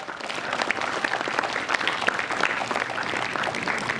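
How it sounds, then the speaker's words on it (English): An audience at a farewell speech at a Malaysian secondary school claps in steady, dense applause that carries evenly through the whole stretch. "Please give them a round of applause."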